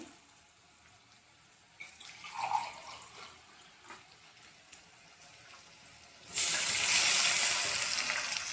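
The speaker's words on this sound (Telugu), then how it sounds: "ఉప్మా నీళ్ళు అయితే ఒక మూడు గ్లాసులు వేసుకున్నామండి" Quiet kitchen clinks, then water pours heavily and steadily into a cooking pot for upma, a loud rushing stream filling the last couple of seconds.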